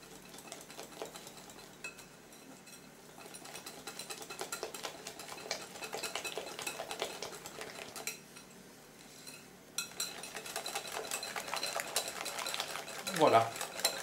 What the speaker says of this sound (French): Et on remue de façon à éliminer les grumeaux.